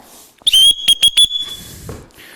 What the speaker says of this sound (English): We'll give him a whistle command.